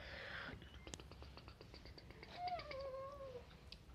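A house cat meows softly, a brief high call near the start and a longer drawn-out meow in the middle, faint and close, with light rustling and quiet handling noise around it.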